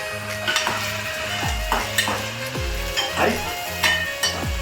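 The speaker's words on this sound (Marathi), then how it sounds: "हे बघा मी आता टोमॅटो आलं लसूणची पेस्ट अँड कोथिंबीर ह्याचं पूर्ण वाटण करून घेतलं आहे ते आता आपण सोडूया" A ground paste of tomato, ginger, garlic and coriander sizzles in a pan for a prawn curry, with a continuous frying hiss broken by repeated scrapes and clinks of a spoon stirring, recorded close.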